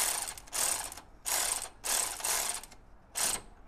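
A wrench ratcheting a 15 nut during a big brake upgrade on an LS-swapped G-body, five quick bursts of close, sharp clicking separated by short pauses.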